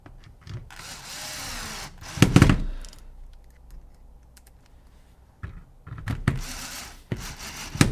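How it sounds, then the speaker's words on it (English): Electric screwdriver driving screws back into a Tippmann Gryphon paintball gun during reassembly, short loud motor bursts separated by quieter clicks and handling noise. "having an electric screwdriver is going to make it a lot easier"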